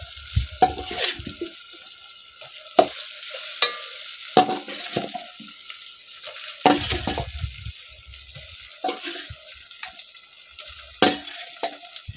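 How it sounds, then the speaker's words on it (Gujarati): Steamed bottle gourd dhokla pieces hit a sizzling tempering with green chillies in a pan, bringing a run of soft clattering stirs and tosses over a steady frying hiss, close and moderately loud. "હવે આપણે ઢોકળા નાખી દઈશું મસ્ત."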